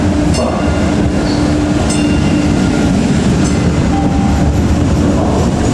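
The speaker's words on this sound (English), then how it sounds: "The next Forest Hills train arrives in 5 minutes." Boston subway train on the Forest Hills line, a loud steady rumble of rail cars with faint wheel clatter and brief squeals, close and continuous throughout.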